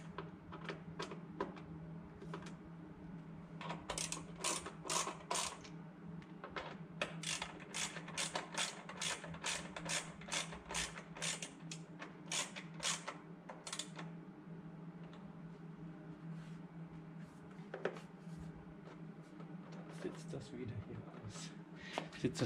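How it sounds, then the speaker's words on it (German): Screws being tightened on a Kawasaki Ninja 650 motorcycle, with repeated quick ratcheting clicks in uneven clusters over a steady background hum, interspersed with pauses and someone speaking. "dann schraubt ihr einfach alle Schrauben hier wieder fest"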